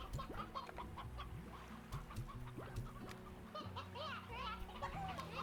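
Chickens and roosters cluck and squawk in a crowded pen in the Slime Rancher video game, a busy, layered stream of clucks and honk-like calls running throughout with a voice talking faintly under the noise.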